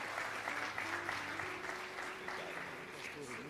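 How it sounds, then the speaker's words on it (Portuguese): A church congregation applauds as pastor André Matias is welcomed, with steady, moderate clapping from a crowd at some distance and voices calling out beneath it. "Queria que você recebesse com aplauso Jesus, querido pastor André Matias."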